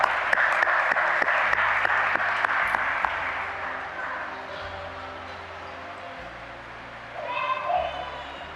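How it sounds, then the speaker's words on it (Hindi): Steady applause from a crowd at a parish financial services session fills the room, with sharp individual claps standing out, fading gradually before a brief swell near the end. "आपकी भरपूर तालियों में"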